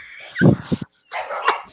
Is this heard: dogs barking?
yes